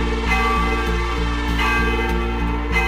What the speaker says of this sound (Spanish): se oían sonar las campanas de la iglesia, pero adentro no había nadie